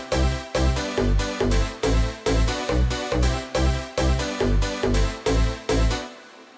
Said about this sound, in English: when you put the bass line and the piano melody together, sounds like this.